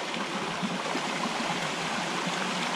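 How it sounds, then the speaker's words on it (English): A creek in the George Washington National Forest flows steadily, giving a close, continuous rushing and burbling with no voices. "decided to come down to the creek"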